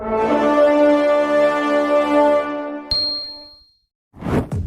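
A bright notification bell dings once after a long sustained chime tone, ringing out alone and fading before a short rustle at the end.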